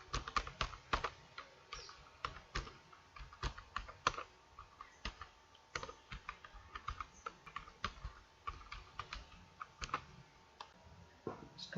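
Someone types on a computer keyboard while entering student names into an Excel spreadsheet: steady, close, fairly quiet key clicks in quick irregular bursts, with no talk.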